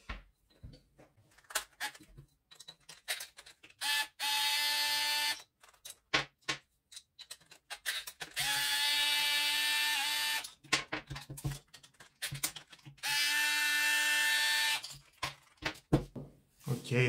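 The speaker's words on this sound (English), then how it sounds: "I will remove these 2 screws and reveal the internal of the boiler." Screws are removed from the boiler of a Silvercrest handheld steam cleaner, with three separate bursts of whining motor sound lasting a couple of seconds each and scattered clicks and handling knocks between them.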